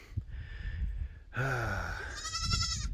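Goats bleating on a farm, a short call followed by a louder, wavering bleat and then another tremulous cry, close and clear over a low rumbling background.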